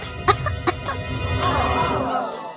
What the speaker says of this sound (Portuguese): Para de tossir.